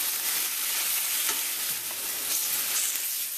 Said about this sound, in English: Give it a good stir, because we want to mix in all that onion and garlic and everything else in there.